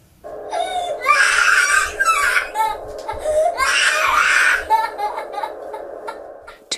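A two-year-old toddler screams and cries at bedtime in long, loud, high wailing bursts separated by short sobbing breaths, close to the listener and with no other voices.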